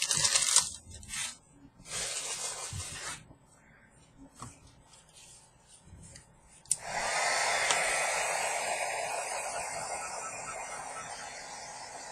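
A hair dryer blows steadily on a freshly painted journal page, starting with a sharp click and running loud and continuous for several seconds after some quieter rustling and handling noises.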